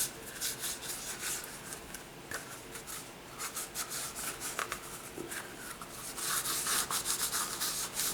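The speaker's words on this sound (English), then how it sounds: "We'll just go ahead and wipe off that excess." A cloth wipes excess conditioner off a leather gun holster, producing close, soft, continuous rubbing strokes in an irregular back-and-forth rhythm with no talking.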